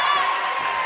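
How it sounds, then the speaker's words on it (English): A girls' varsity basketball crowd at Otter Valley versus Proctor erupts after a made basket, loud and dense cheering and whooping filling the gym, close and continuous. "That one gets the crowd going"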